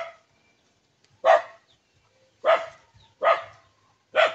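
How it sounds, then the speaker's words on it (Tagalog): A dog barks four times, sharp and fairly close, with pauses of about a second between barks. "May aso pa naman."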